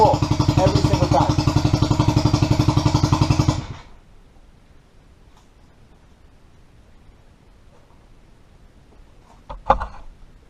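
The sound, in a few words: outboard motor on jon boat pull-started and running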